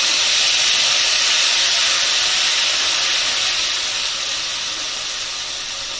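Tomato paste sizzling in a hot pan with bay leaves, a steady bright hiss that slowly fades over several seconds, with no talking.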